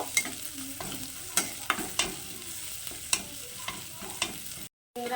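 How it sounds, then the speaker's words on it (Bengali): Ginger and onions fry in a pan under a steady sizzle, with a spatula scraping and clinking against the pan every half second or so, close and loud, before a brief cut to silence near the end. "তো আদাটাকে এর সঙ্গে একটু ভালো করে ভেজে নেব"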